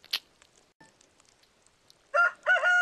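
A rooster crows in the farming video game Stardew Valley. After a few faint clicks and a quiet stretch, a loud, harmonic crow arrives near the end in two bursts, close and clear.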